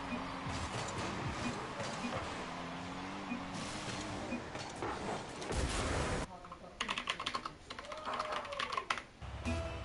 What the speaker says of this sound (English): Sorry for typing.